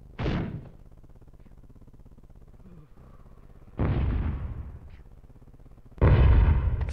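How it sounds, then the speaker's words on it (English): Artillery fire and explosions in the Hogs of War game come as three separate heavy booms with quiet stretches between them, the last one the loudest and longest. "Fire all phasers."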